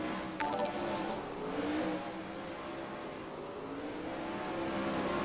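A 410 winged sprint car on a qualifying lap at the Limaland dirt track, its engine a steady loud high-pitched drone with shifting pitch throughout, heard from a distance without a break.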